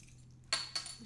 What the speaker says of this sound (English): That was the sound of a lid hitting the table